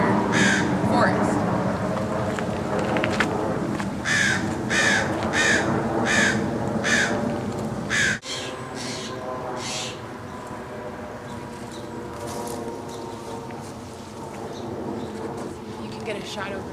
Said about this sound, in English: We have some stellar jays that are very frequent to this area. You can recognize their call by sounding almost like a baby crow.